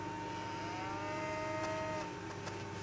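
Cow mooing in the farming video game Harvest Moon, a drawn-out tonal call heard alone over a steady background hum, with no talking.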